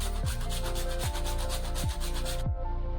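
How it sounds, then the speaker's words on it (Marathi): Nutmeg grated by hand for gum laddoos, four rhythmic rasping scrapes about one per second, close and clear with no talking, ending abruptly in quiet. "ते जायफळ खिसून घेणार आहे त्याच्यामध्ये मस्त"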